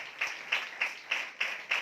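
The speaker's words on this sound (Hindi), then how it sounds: "आए पाखरू के लिए जोरदार तालियां बजाएं।" Steady rhythmic clapping at a Sunday church meeting, six evenly spaced claps at a moderate pace, sounding fairly faint and alone, like a single pair of hands keeping time.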